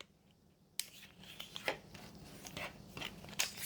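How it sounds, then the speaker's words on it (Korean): A sheet of paper folded in half for a persimmon-shaped autumn mobile craft, heard as soft crisp creases and rustles close by, several light crackles and rubs in a quiet room without talking. "한 장 더 이렇게 반으로 접어주고 한 번 더"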